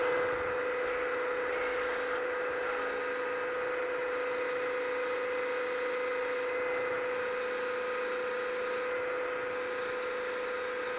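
A steady high-pitched machine whine with a continuous grinding hum, as a spotting drill on a milling machine cuts metal for a model steam engine base, runs throughout without talk.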